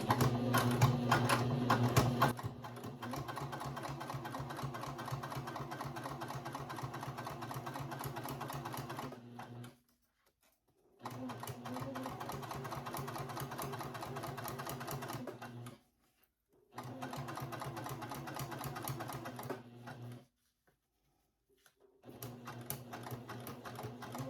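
A home sewing machine stitches fabric in steady mechanical runs, pausing briefly three times as the fabric is pivoted before stitching resumes, close and fairly loud with no talking.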